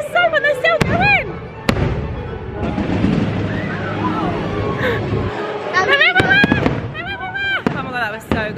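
Fireworks over Walt Disney World burst in sharp bangs and crackles, some booming loud and close, while people nearby shout and exclaim excitedly throughout.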